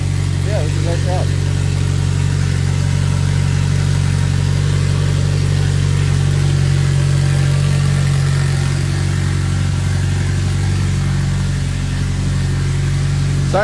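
A car engine runs loudly and steadily in a car tuning shop, a constant low idle droning through the whole stretch while someone talks over it.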